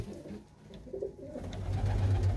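Domestic pigeons kept by a fancier cooing softly at close range, a few low murmuring coos over a faint background hum, no talking.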